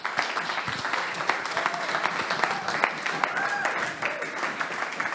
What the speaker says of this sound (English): please clap and welcome Chloé from EDRi